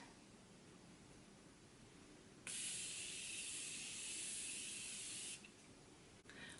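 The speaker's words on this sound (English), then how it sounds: "I'm going to set again with the Morphe Setting Mist" Morphe Setting Mist sprayed onto a face as a makeup setting step, a single steady hiss lasting about three seconds, close and clear against a quiet room.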